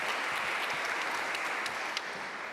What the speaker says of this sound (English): Please give a round of applause as she comes up